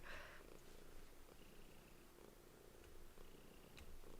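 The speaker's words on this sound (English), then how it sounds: "I apologize if there's audible purring." Low, continuous purring from a pet cat held close, quiet and even throughout with a faint background hiss.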